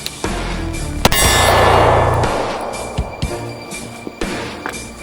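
A pistol slide racks with a sharp metallic clang during a range malfunction drill, followed by several smaller clicks and knocks of handling the gun; no speech.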